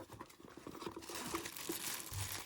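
Close, quiet crinkling and rustling of plastic wrapping being peeled off a new North Face item, irregular crackles building over a couple of seconds.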